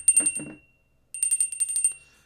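A bicycle bell rings in two quick bursts of rapid metallic dings, each trilling for about half a second and separated by a short silence, close and bright with nothing else heard.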